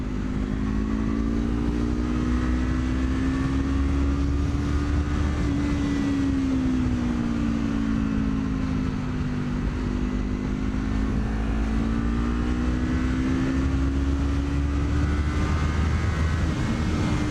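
Motorcycle held in third gear at a steady cruise, its engine drone continuous and fairly loud under wind rush for the whole stretch, pitch drifting gently up and down with no speech.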